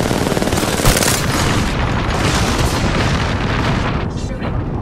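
A grenade going off amid a video game firefight: a thudding blast rises out of a dense, continuous roar of gunfire and booming battle noise that stays loud and close throughout.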